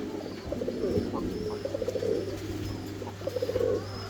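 Fancy pigeons coo in repeated soft, throaty bursts close by over a low steady hum, with a faint voice in the background.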